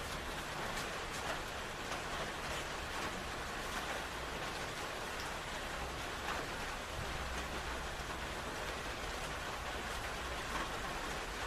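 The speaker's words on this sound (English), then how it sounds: "Yes, it's raining." Steady rain pours onto a city street, a dense even hiss of drops hitting pavement that stays constant throughout, with no voices.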